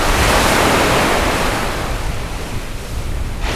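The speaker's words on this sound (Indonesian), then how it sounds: "desah-desahan ombak" Ocean waves wash onto a beach in a loud broad rush that swells at the start and then eases into a softer roar, with some wind.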